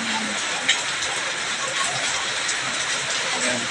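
Steady rain falling in Kabankalan City, Negros Occidental, a dense, even hiss that fills the whole stretch, close and fairly loud, with a faint voice underneath.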